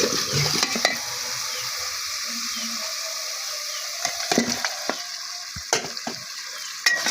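Beef bones stir-fry with turmeric and chili powder in a pot, sizzling steadily up close while a spoon scrapes and knocks against the metal in sharp, irregular clacks.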